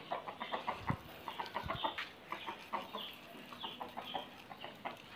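Hens and chicks cluck in short, scattered bursts with soft peeps mixed in while feed is scattered, a busy yard chattering close by, with no talking.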